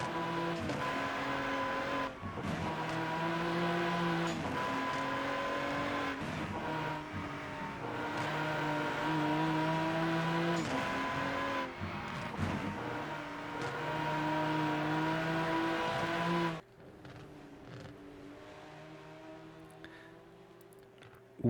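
GT4 race cars lap the Nürburgring Nordschleife in the Rennsport racing game, their engines droning loud and steady and rising and falling with gear changes before dropping suddenly to a quieter, lower tone near the end.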